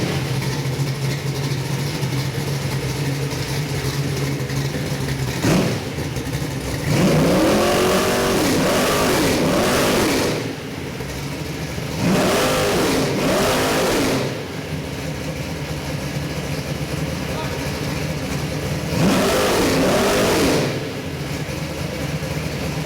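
A roughly 500-horsepower Oldsmobile crate engine on a test setup, running at a steady idle and then revved hard three times in rising and falling swells. It is loud and close, with no voices.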